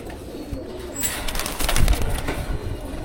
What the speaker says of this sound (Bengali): দেখেন কবুতরটা।